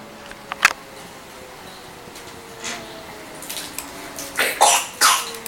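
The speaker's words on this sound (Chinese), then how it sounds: "哇，咳嗽了。" A child coughs in a few short, sharp bursts, one early and a quicker cluster near the end, fairly close against a quiet indoor background.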